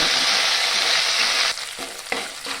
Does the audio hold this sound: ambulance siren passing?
no